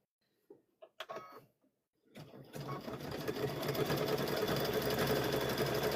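After a few soft handling clicks, a sewing machine starts up and stitches a quilted Halloween tote bag, its steady, close motor whir building and holding to the end.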